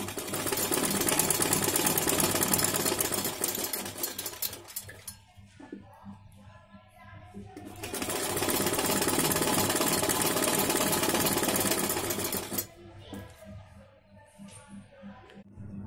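A sewing machine stitches the fitted sleeve of a kurti, running in two loud steady bursts of rapid mechanical whirring with a quieter pause and handling between them.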